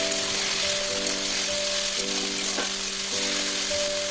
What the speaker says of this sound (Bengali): এরপর আমি এখানে দিয়েছি শুকনো লঙ্কা ও কাঁচা লঙ্কা কুচি। লঙ্কাগুলো একটু ভাজা হয়ে আসলে